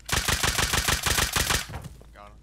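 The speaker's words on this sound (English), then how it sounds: "I didn't know you had a nail gun." Rapid, evenly spaced bursts of nail gun fire in the game Rust, about a dozen close, loud shots in quick succession before the firing stops and a faint tail trails off.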